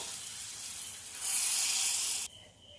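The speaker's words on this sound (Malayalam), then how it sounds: "കടുക് വറുത്തിട്ട് ഇതിലേക്ക് ഇട്ടു." Mustard seeds fried in oil poured into Kerala buttermilk curry, a steady hiss that surges louder midway and then cuts off, leaving a faint simmer.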